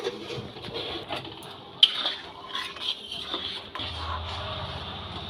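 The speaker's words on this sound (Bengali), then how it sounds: "চিনিটা ভালোভাবে ডালের সাথে মিশিয়ে নেব।" Spoon scraping and clinking in a pot while sugar is stirred into vegetable dal, soft intermittent clatter with a faint sizzle.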